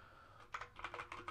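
Quick bursts of keystrokes on a computer keyboard as a command is entered for a React project, with soft clustered clicks starting after a short pause and running steadily at a quiet, close level, no voices.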